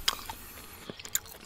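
Close, quiet crunching bites and chewing of a whole roasted dill chicken, a few sharp crisp crackles scattered over soft mouth sounds.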